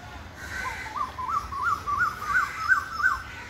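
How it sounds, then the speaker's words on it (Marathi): An Asian koel calls in a tree-lined spot in Mumbai, a rising series of clear, looping whistled notes that grow louder and higher, heard alone at moderate distance. "बघू शकता किती छान आवाज कोकिळ्याचा."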